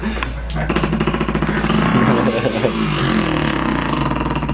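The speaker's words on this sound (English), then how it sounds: "The dirt bike again?" Dirt bike engine running close by, a loud, steady buzzing drone with rattly, uneven pulsing throughout, no clear pauses.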